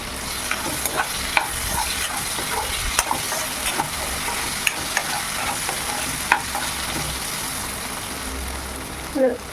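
Vegetable bhaji with a pinch of turmeric powder frying in a pan, a steady close sizzle with scattered stirring scrapes and clicks throughout, no talking.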